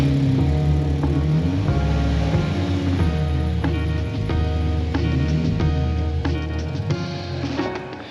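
A car engine runs at a steady low idle with a few slight revs as the car reverses into a driveway, close and continuous, easing off at the end.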